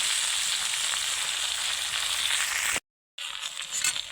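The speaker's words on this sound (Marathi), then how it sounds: "कढईमध्ये तेल टाकून जिऱ्याची मग फोडणी दिली आणि पात आपल्याला मस्त परतून घ्यायची." Spring onion greens sauté in hot oil tempered with cumin in a kadhai, giving a steady, close sizzle that cuts out briefly near the end, then resumes.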